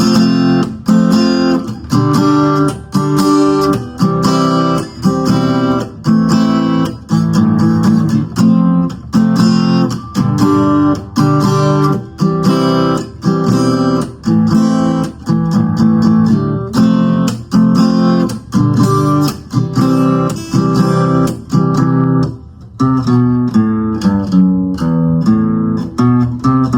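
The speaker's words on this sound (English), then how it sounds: "Now I'm going to play it one more time so you got the chorus part so you guys see, hear the chords in full speed" Acoustic guitar strums the chorus chords of a song at full speed, a steady, loud rhythmic strumming pattern that runs alone without a break.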